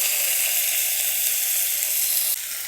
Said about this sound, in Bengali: সেই কুমড়োগুলো তেলের মধ্যে দিয়ে দিচ্ছি